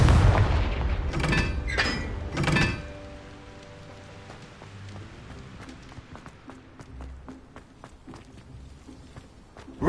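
Confringo spell explosion in Hogwarts Legacy: a cluster of heavy booming bursts in the opening seconds, then a long rumbling, crackling decay with scattered debris-like ticks fading away.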